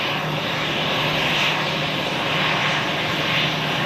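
An Aer Lingus Airbus A320 arriving at Zurich Airport, its jet engines a steady, loud roar that holds evenly throughout without any speech.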